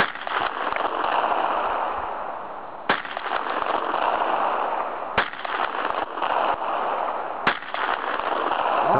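A 1913 pistol is fired outdoors at a can. Three sharp, loud reports ring out a couple of seconds apart over a steady background of wind-like noise.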